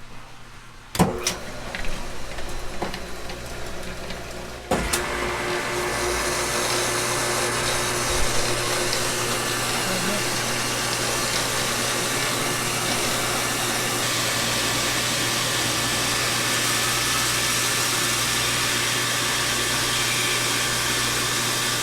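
A reverse osmosis machine in a sugar house concentrating maple sap. A few clicks come first, then it starts up into a steady, loud, even mechanical hum and hiss that runs on alone.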